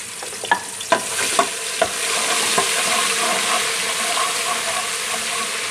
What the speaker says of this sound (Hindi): ऑयल हमारा अच्छे से गर्म हो गया। अब मैं लहसुन अदरक का पेस्ट इसमें शामिल करूँगी।